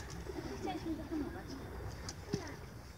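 Pigeons in a loft at feeding time coo softly and intermittently, close by, under ongoing speech and light background rustling, with one brief sharper call near the end.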